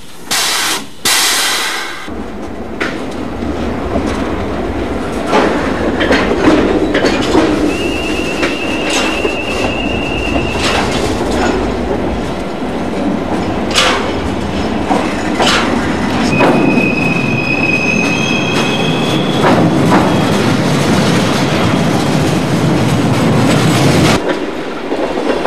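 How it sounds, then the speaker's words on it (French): Railway wagons rolling through retarder rails in a marshalling yard, a sustained loud grinding rumble with clattering wheels and several high metallic squeals, continuous for the whole stretch with no speech. "Ces drôles de rails servent en fait à ralentir les wagons."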